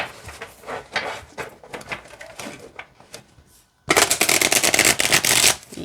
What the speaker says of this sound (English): All right, so let's see how it shuffles.